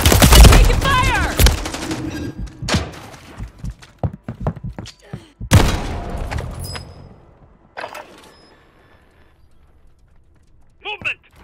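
Bursts of automatic gunfire and scattered shots in a Call of Duty match, loud and sharp early on, then sparser cracks and impacts with longer gaps between them.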